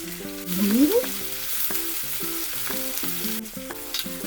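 Spring onions frying in a pan, a soft continuous sizzle with occasional stirring scrapes, set against quiet melodic background music with a rising tone near the start.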